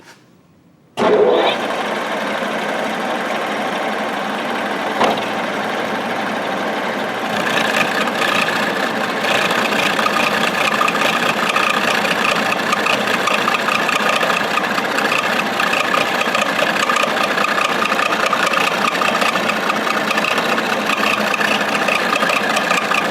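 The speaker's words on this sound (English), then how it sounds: "So he's going to go ahead and start the machine and start cutting into it." An Oliver 25A wood lathe set up for milling metal starts with a sudden onset and runs as a steady, loud mechanical drone with a whining hum, the cutter engaging and the tone thickening partway through, with no voices.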